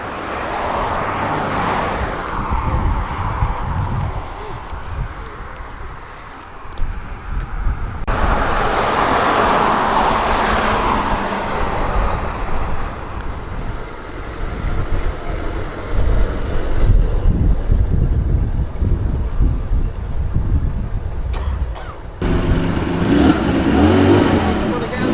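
A big Dodge's engine rumbles steadily and close at hand as it drives over to a breakfast car meet, with shifting road and traffic noise around it.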